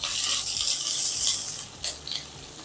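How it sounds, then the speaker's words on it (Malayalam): Sautéed onion, green chili, garlic and ginger stirred in a pan, a bright crackling sizzle with scraping strokes of a spoon, close and continuous, with a few sharper clinks near the end. "നന്നായിട്ടൊന്ന് ഇളക്കി കൊടുക്കാം"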